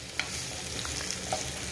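A soft, steady sizzle of onion frying in oil, fairly quiet, with a couple of faint clicks of stirring.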